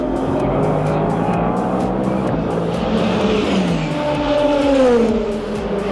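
A Ferrari race car at the 24 Hours of Le Mans roars past on the final lap, its loud engine note rising and shifting as it passes close by, with other race cars droning underneath.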